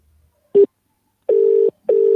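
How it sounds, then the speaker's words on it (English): A short electronic beep followed by two long, steady telephone ring tones with a pause between them, loud and close. "The line goes, it's ringing."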